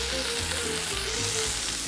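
Sausage browns in a pan for orecchiette with broccoli, giving a dense, steady sizzle and crackle heard up close without any speech.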